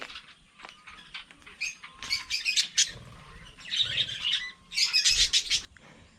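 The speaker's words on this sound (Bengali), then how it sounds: "ওয়াচ টাওয়ারটা কিউট কিউট পাখি।" Small birds at the Jhilli bird sanctuary near Gopiballavpur, Jhargram, chirp and twitter in busy, close clusters that come and go in bursts over quiet outdoor background.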